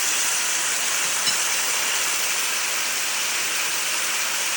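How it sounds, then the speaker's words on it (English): Low-carb food sizzles steadily in a hot wok, a loud, even hiss with no pauses and no voices. "Sizzling."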